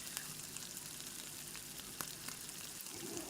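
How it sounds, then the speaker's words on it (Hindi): Eggs frying in a little oil in a pan, a steady close crackling sizzle with scattered sharper pops running throughout, no voices. "अंडे फ्राई कर रही थी"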